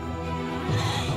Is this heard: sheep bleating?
yes